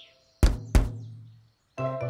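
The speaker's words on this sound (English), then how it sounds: "When you tap it and the watermelon sounds like this." A watermelon tapped twice with the knuckles as a ripeness test, giving two close hollow thunks that ring out briefly, followed by a pair of faster knocks after a short pause.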